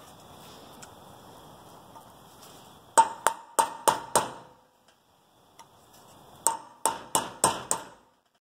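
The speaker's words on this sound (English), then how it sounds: "just tapping out this old seal" An old front suspension seal on a 1985 Mercedes 300CD is tapped out with a tool: two bursts of five sharp metallic taps in quick rhythm, separated by a quiet pause, close and loud.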